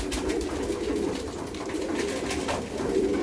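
Racing pigeons in a loft in Milicz, Poland, coo softly and repeatedly, low rolling calls layered over one another in a steady murmur with no speech.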